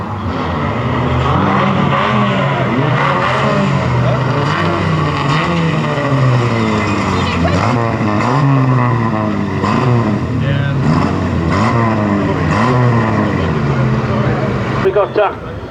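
Trailer race cars roar around the oval at Fleet Raceway, several engines rising and falling together in loud overlapping revs as the pack circuits, while a commentator talks over the racing throughout.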